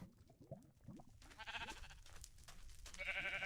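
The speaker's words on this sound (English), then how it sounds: "I found a naturally spawned pink sheep" A naturally spawned pink sheep in the Minecraft video game bleats several times in short, wavering calls, with ambient game noise underneath and louder bleats toward the end.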